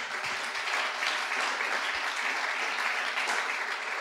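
Steady applause from a church congregation fills the space, dense and even from start to finish with no voices rising above it.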